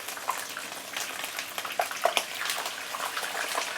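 Prawns dropped into hot oil sizzle and splatter, a dense crackling hiss with sharp popping bursts throughout, close and fairly loud.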